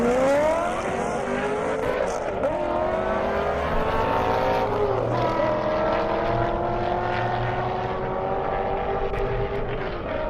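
Drag racing cars, one of them an Audi, roar down a half-mile airport airstrip at Indy, with loud engine notes rising and shifting through gears continuously for the whole stretch.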